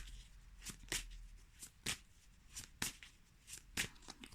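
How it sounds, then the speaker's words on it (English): Tarot cards handled and shuffled at close range, a series of sharp papery riffles and snaps at roughly one-second intervals, quiet with no talk. "Let's pull another card for you."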